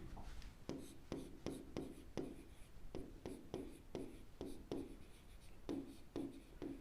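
Writing on a board during a maths lecture, a string of short, evenly spaced scratchy strokes, about two per second, close and fairly quiet against a soft room background.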